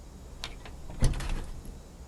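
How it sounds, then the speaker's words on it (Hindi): A door is opened in a crime drama house scene, giving a short thud and rattling clunk of the latch midway through, followed by faint creaking against a low steady background hum. "खोल दरवाजा।"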